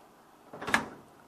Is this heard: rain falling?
no